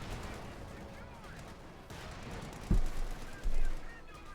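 Sherman tank .50 caliber machine guns firing in the strategy game Company of Heroes 2: two short, heavy bursts near the end rise over a steady battlefield din and commentary.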